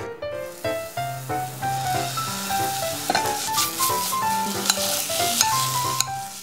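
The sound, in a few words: beef stir frying in a frying pan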